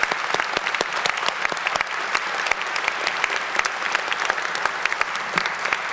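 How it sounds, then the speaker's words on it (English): A large audience applauds the graduates at a 2023 honors convocation: dense, continuous clapping fills the space at a steady level from start to finish, with no voices over it. "Please join me in giving this year's graduates a round of applause"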